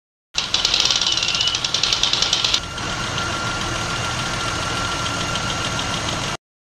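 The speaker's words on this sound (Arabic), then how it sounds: "لو كان في محرك السيارة أصوات غريبة وغير عادية مثل الصوت التالي" Car engine with a rapid metallic ticking and knocking, loud and close, a sharper clattering burst for the first two seconds settling into a steady ticking idle.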